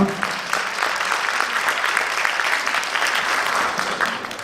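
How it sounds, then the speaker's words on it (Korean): Audience at an awards ceremony clapping steadily for a presenter, an even, continuous wash of applause that holds at moderate volume throughout. "박수를 맞아주시면 고맙겠습니다"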